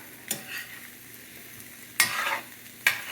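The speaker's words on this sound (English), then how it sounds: "First, I just want to get it evenly stirred up." Corned beef hash with potatoes stirred in a frying pan, a low background sizzle broken by three sharp spatula scrapes against the pan, close and loud with no talking.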